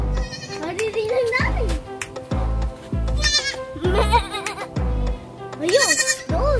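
Baby goats bleat repeatedly, high and wavering, close by, with voices talking in between the calls.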